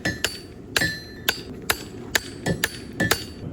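Hammer striking hot metal at a university forging competition: about nine sharp, ringing clanks in an uneven rhythm, fairly close, with a bright metallic tone and no voices.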